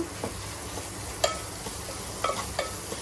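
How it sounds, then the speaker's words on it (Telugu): Vegetables with ginger paste being stirred in a pan while cooking veg pulav, giving a few soft scraping clinks over a faint low sizzle, close by with no talking. "ఒకసారి అయితే మిక్స్ చేసేస్తున్నాను మొత్తం"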